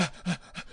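A human voice imitates a frightened dog panting, three quick, breathy huffing gasps in a short, even rhythm, close and fairly loud with no other sound around.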